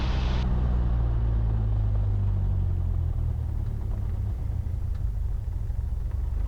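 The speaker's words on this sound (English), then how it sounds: "I don't leave the engine running on idle for too long" A Cessna 172's engine idles at Camden Aerodrome before run-up, a steady, loud, low rumbling drone that holds throughout with little change in pitch.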